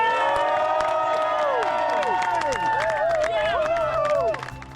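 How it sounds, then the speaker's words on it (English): Harbour crowd in Antigua cheering, whooping and clapping as ocean rowers arrive after crossing the Atlantic, lively voices, horn-like tones and scattered claps blending into a loud, busy celebration. "Let's give it up and a big applause for Alpine Rowers!"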